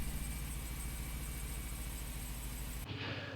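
A Jeep engine idles steadily at a low, even rumble with a newly installed alternator, a constant hum that cuts off abruptly near the end.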